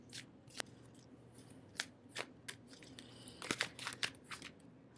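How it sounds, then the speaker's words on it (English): An oracle card deck is shuffled by hand, producing quiet, sharp riffling snaps and crisp papery slides in irregular bursts, close and soft against a still background. "didn't have to do much shuffling there"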